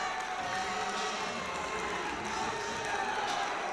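Spectators at a high school wrestling match in a gym give a steady roar of cheering and crowd noise, with a commentator talking over it throughout.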